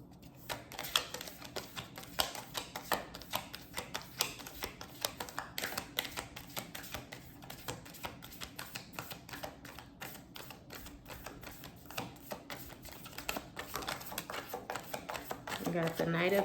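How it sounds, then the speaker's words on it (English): Tarot card deck being cut and shuffled, with rapid papery riffles and taps running throughout at close range, steady and fairly quiet. "so I'll cut the deck"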